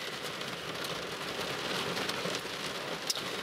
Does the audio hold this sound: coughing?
no